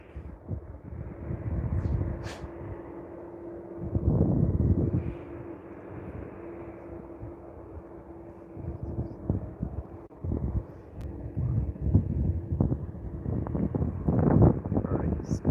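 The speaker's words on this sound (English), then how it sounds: "Quickly pan over to the arriving Q400 and come back to the heavy as it gets closer to us" A De Havilland Q400 turboprop arriving on short final at Vancouver International Airport, heard as a steady low engine drone swelling and fading with gusty wind noise across the microphone, no talk.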